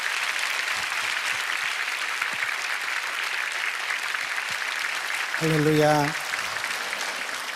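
Church congregation at a 2015 Daniel prayer gathering giving a strong round of applause to welcome a pastor, steady dense clapping throughout, with a brief voice calling out partway through.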